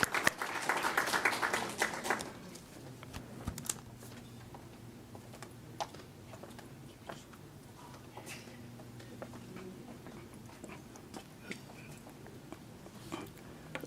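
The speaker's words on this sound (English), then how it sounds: "A round of applause, ladies and gentlemen." Audience applause at a university library archive launch, a burst of dense clapping for the first two seconds that quickly thins to scattered, faint claps and room murmur.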